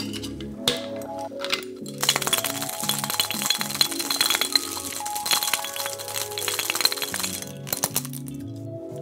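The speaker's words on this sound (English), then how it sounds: "we're just gonna throw some ice in here and give it a quick shake" Ice rattles hard inside a cocktail shaker while a Kentucky Buck bourbon cocktail is being mixed. A sharp, rapid clatter of ice against the shaker runs for several seconds, close and loud, with a brief clink before it starts.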